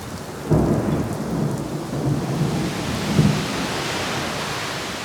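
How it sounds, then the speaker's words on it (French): Heavy monsoon rain pours steadily while thunder rumbles and cracks nearby, a dense wash of rainfall with deep swelling booms rolling through it. "est arrêté par la pluie"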